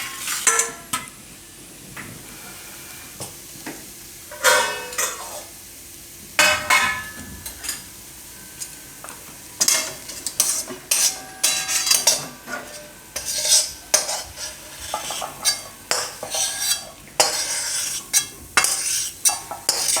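A spoon scrapes and stirs cooked vegetables for veg lasagna in a metal pan, then moves them into another vessel, with repeated clanking, scraping strokes and a faint sizzle underneath, no talking.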